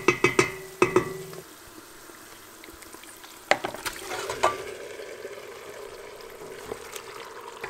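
Meat going into hot oil spiced with bay leaf, cinnamon and cardamom for a lamb curry: a few sharp clatters of pan and utensil, then a steady crackling sizzle with intermittent stirring scrapes.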